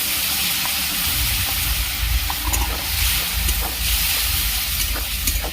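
Water is poured into a hot pan of small potatoes cooking with Kashmiri chili powder, producing a loud, steady steamy hiss and sizzle close by with faint clatters, and no speech.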